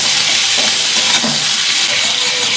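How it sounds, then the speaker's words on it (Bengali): Salt, turmeric and red chilli powder sauté in a hot pan with a loud, continuous sizzle and hiss, with occasional scraping stirs of a spatula against the pan. "ভালো করে কষিয়ে নেব।"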